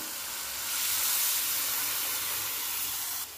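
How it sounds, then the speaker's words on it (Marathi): Cooked dal poured into a hot spiced tempering for Marathi masala varan sets off a loud, steady hissing sizzle that swells after a moment and holds, close and without talk. "आता हे आपण शिजवलेली डाळ टाकून घेऊया त्याच्यामध्ये।"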